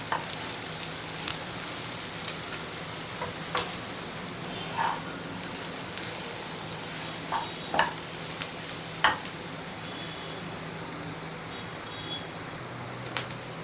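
A spatula scrapes and taps against a nonstick pan at irregular intervals over a steady, quiet sizzle of ivy gourd frying.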